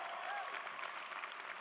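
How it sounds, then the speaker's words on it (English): Audience at a high school graduation ceremony applauding, a steady dense wash of clapping with crowd noise that fills the short stretch at an even, fairly distant level. "So give yourselves a round of applause."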